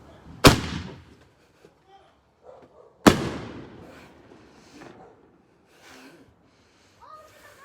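Two sharp firework blasts go off in a backyard with a trampoline, the second about two and a half seconds after the first, each trailing into a crackling decay, with scattered faint voices between.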